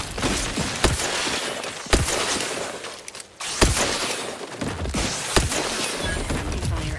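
Gunfire in the video game Outer Worlds 2: loud, close shots or short bursts land roughly once a second over a busy, noisy backdrop, with one brief lull midway.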